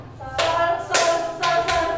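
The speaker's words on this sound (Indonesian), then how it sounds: "Jadi nanti kalau tepuk 1 do, tepuk 2 re, tepuk 3 mi, tepuk 4 fa" Hands clap three times in an even, deliberate rhythm to count off music notes, crisp and close with brief ringing decay, no talking over them.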